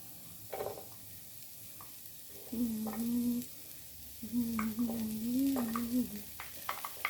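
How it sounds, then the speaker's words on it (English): A wooden spoon stirs egg and bacon fried rice in a pan. Soft scrapes and clicks come in uneven bursts over a low sizzle, with a hummed, voice-like tone in places. "Now I'm going to use my wooden spoon. Okay, just stir that a little bit."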